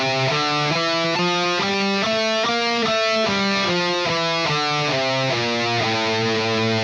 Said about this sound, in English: The A Phrygian mode looks and sounds like this.